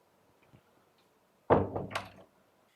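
A door swings shut with a solid thunk and a short rattle of the latch, loud and close, following a near-silent room with faint background hum.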